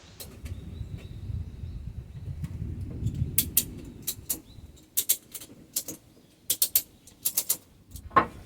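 Ratchet straps are cranked tight around large timber plates, with sharp clicking bursts coming in quick clusters after a low rumbling start. The bursts are close, separated by short pauses.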